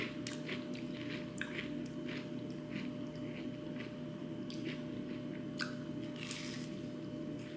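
Crunchy gluten-free baked food, slightly overbaked, is bitten and chewed close to the mouth, giving a string of crisp, irregular crunches over a low steady background hum, with no talk.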